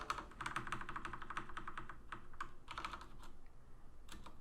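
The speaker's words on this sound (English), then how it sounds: "I'm going to press up on my keyboard to bring this back." Rapid keystrokes clatter on a computer keyboard in quick irregular bursts with brief pauses, close and fairly quiet.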